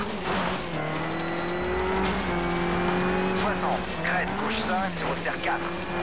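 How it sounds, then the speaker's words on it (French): Rally car engine in Colin McRae Dirt on PS3, a steady near, loud drone with a high injection whistle that rises and falls through gear changes, with a voice speaking over it throughout. "J'adore la sonorité du moteur."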